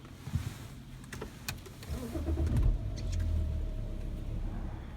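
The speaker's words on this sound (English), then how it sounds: "we're going to try to start the car and see if that code goes away" A BMW X5 E70 diesel SUV being started: a brief electric cranking whir, then the engine catches and settles into a steady low idle, close up with no talking.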